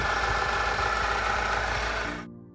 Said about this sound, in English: Symptom number 6: engine rattles while idling.